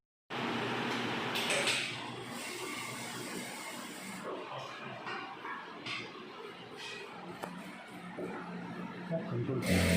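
The bobbin winder on a Jack A2S sewing machine runs with a faint, steady mechanical whirr and hiss, while a person talks nearby.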